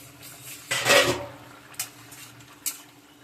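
A metal pot lid is set down over a pan of rupchanda fish curry with a clattering clank, followed by two lighter taps of metal on metal in a quiet kitchen.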